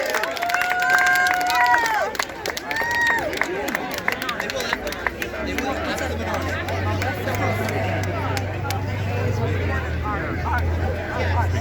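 A crowd at a Chanukah event at a Los Angeles police station claims applause for the officers, with dense clapping and chatter at first, then a low hum settling under scattered claps and murmur.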